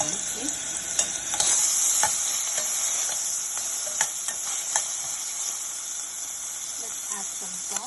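Ginger and garlic paste frying in two teaspoons of oil in a pan gives a loud, steady hissing sizzle with occasional sharp crackles and stirring clicks, close by, with a voice briefly in the background.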